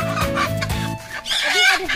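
A chicken, one of five caught for a riverside boat picnic, clucks loudly and close in quick repeated bursts, then gives higher agitated squawks.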